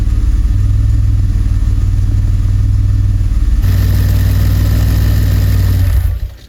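A DeLorean car engine runs close by at a steady, loud rumble after being revved, with a slight shift in tone partway through before it cuts off at the end.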